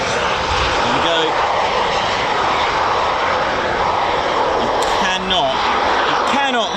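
An RAF Eurofighter Typhoon FGR4 fast jet at RAF Coningsby, a loud continuous roar filling the air, with people talking over it.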